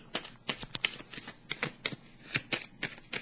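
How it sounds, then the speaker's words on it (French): Tarot cards shuffled by hand in a quick run of about a dozen crisp riffling bursts, close and clear, with no talking. "Je vais piger une carte ici."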